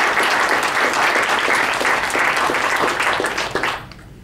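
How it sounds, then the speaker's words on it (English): A loud, dense round of applause from diners at a charity dinner, continuing steadily before tapering off abruptly at the end. "give them a huge round of applause"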